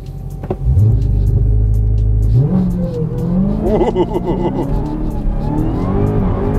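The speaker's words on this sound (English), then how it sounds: "launch control with the Dodge Charger SRT Hellcat Redeye" A 2021 Dodge Charger SRT Hellcat Redeye Widebody doing a launch-control start: loud rumbling idle held, then a fierce supercharged roar as the engine revs up through the gears, close and powerful.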